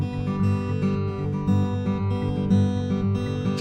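Acoustic guitar fingerpicked in a steady pinch pattern, bass and treble notes plucked together with the final note of each figure filled in, ringing close and clear on its own for a few seconds.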